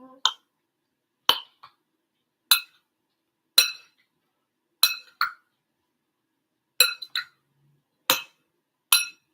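Utensil clinking against a bowl while mixing cactus salsa with dill weed, about a dozen sharp, evenly spaced taps close by with quiet pauses between them.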